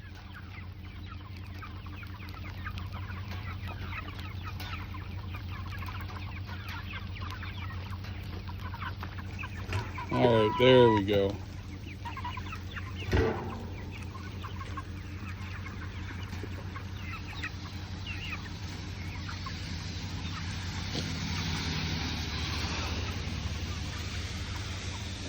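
Cornish Cross meat chickens on a rainy farm giving a short burst of clucking and squawks midway, over a constant patter of rain, with someone speaking briefly.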